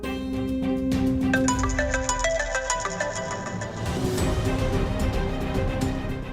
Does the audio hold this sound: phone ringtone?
yes